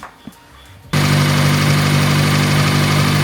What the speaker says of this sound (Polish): Ale dostał normalnie wściekłego diesla, nie? Jakby tak dziwnie zapieprzał.